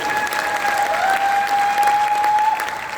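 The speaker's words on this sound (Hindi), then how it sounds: "एक बार महागुरु जी डॉक्टर शिव कुमार सर के लिए भी जोरदार तालियां होनी चाहिए" A crowd at a gathering applauds loudly for an honored guest, a steady roar of many clapping hands with a faint sustained tone running underneath.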